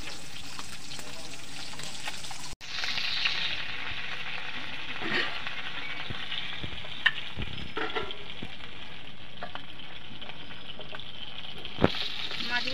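Katla fish pieces fry in oil, a close, continuous sizzle that cuts off sharply for an instant and then resumes, with a few light clicks and pops over the steady crackle.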